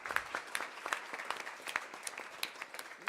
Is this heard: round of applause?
yes